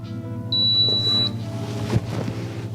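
A crock pot sounds a single sustained high electronic beep after start is pressed on its control panel, heard over a steady low kitchen hum.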